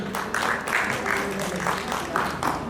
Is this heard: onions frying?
no